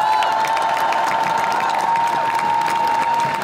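A crowd at an outdoor protest rally for Sainte-Soline applauds loudly and steadily, dense continuous clapping mixed with scattered cheers and shouts throughout.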